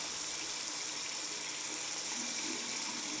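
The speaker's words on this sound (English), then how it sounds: "Rinse hands under running water." A tap runs steadily while hands are rinsed during handwashing, a soft, even hiss of flowing water that stays constant and fairly quiet throughout.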